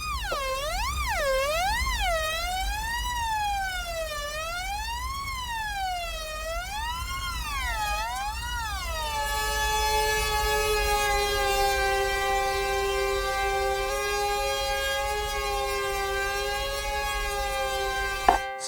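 Korg Opsix FM synthesizer tone with its comb filter frequency being swept, a sustained buzzy note whose pitch-like resonance wobbles up and down in slowing waves before settling into a steady held tone.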